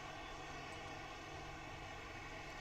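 A KLM Embraer 190 jet at Perth International Airport gives a steady, droning engine roar, continuous and fairly distant, with no talk over it.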